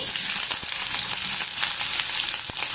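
Green chillies and onions fry in a pan, a steady loud sizzle with faint stirring clicks and no voices.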